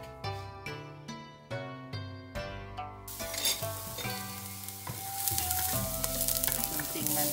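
Penny bun mushrooms fry in garlic butter with a little added oil, a bright broadband sizzle that rises after a few seconds and continues steadily beneath music.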